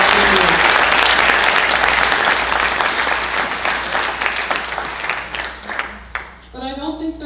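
Loud, dense audience applause at a community association's annual meeting, sustained for several seconds and then tapering off as the clapping thins out, with some voices mixed in toward the end.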